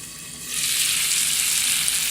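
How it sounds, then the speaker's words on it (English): Stuffed chicken breasts sizzle in a skillet, with a steady, close frying hiss that swells louder after a moment and holds evenly. "We have a nice sizzle going on."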